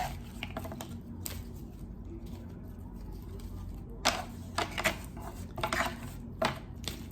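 Tarot cards handled and riffled as a deck is swapped out, brief papery shuffling bursts and taps up close, clustered in the second half after quieter fumbling.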